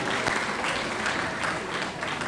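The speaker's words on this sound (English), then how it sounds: "Can we give him another round of applause?" Applause from a conference audience fills the room with a dense, steady wash of clapping from many hands, held at an even level for a couple of seconds with no voices rising above it.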